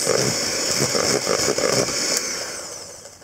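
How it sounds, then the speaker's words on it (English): An electric whisk mixes cake batter with eggs for a Dutch apple cake, giving a continuous high whirring motor buzz with slight wobbles in pitch, close by and steady throughout. "Again, mix that with your electric whisk."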